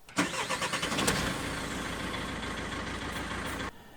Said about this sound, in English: Today I want to share with you how to go from a long cranking time to a short cranking time.